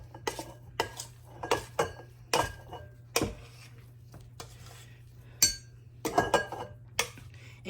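A spoon scoops a sausage ball appetizer mixture and dumps it into a bowl, giving a series of sharp metallic clinks and scrapes at irregular intervals, close and fairly quiet over a low steady hum.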